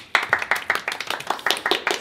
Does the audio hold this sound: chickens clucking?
no